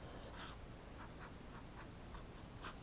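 A fraction being written by hand, with soft rhythmic scratching strokes of the pen close up in a quiet room, a series of short marks with a louder stroke at the end.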